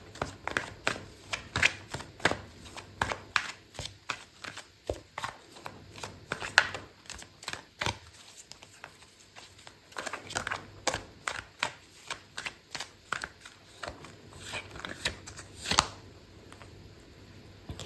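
Tarot cards handled and laid out on a surface, a long run of quick close riffling snaps and soft slaps in irregular bursts, no voice.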